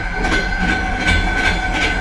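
A moving passenger train in Uzbekistan rattles and clatters in a steady rhythm, with rhythmic clicks over a constant low rumble, close and loud.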